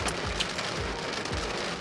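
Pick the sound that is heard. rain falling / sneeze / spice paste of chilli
rain falling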